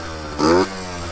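A Yamaha RX50 motorcycle, a cheap barn find running well after carburetor cleaning, needle adjustment and a new petcock, putters with a small-engine buzz and a brief louder rev in the middle, close up.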